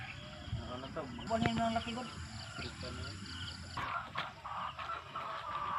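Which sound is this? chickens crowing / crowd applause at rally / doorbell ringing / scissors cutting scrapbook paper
chickens crowing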